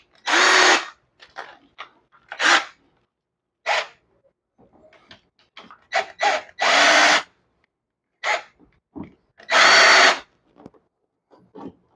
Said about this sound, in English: you can take the entire handle out and put it in your